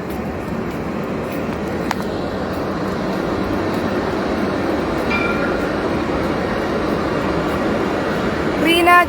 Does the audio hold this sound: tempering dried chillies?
no